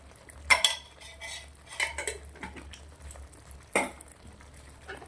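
A spoon scrapes and clinks against a pan while stirring a thick palak paneer butter masala finished with ghee, with a few sharp knocks between softer mixing sounds.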